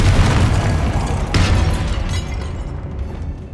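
A Confringo fire spell blasts in Hogwarts Legacy: a loud, rumbling boom with a sharp burst partway through, then a long fading roar as the blast dies away.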